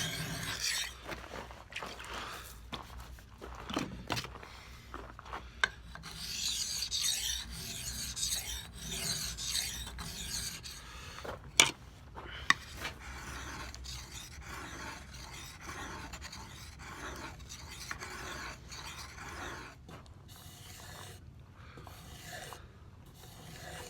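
Rhythmic rasping strokes of a hand file scraping along a knife edge, repeated steadily at a moderate pace, fairly quiet and close.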